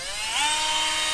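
A Black & Decker 18 volt lithium 1.5 Ah cordless drill whirs up to speed, a close, steady high-pitched motor whine that rises briefly then holds for about a second.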